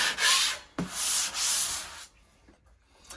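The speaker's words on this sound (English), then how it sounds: "Wet sand, reduce your dust, and finish your job." Wet sanding a wall after wallpaper removal, with a sanding block rubbing in a few close strokes, raspy bursts that fade into quieter scraping near the end.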